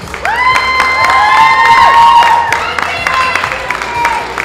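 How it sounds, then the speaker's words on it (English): An audience at a bodybuilding posedown claps and cheers, with shrill whistles rising over steady crowd applause. "Big round of applause for these two."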